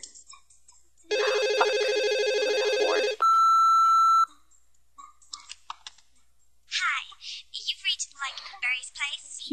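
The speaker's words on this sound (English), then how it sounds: "Phone's ringing" A telephone rings in the video game Conker's Bad Fur Day: a loud electronic ringing burst of about two seconds, then a steady beep tone, followed by a stretch of voices talking.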